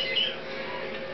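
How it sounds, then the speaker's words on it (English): A male umbrella cockatoo lets out a harsh, raspy squawk, loud and close, holding steady for about a second with no talk over it. "this is a DNA sexed male umbrella cockatoo hatched February 1st"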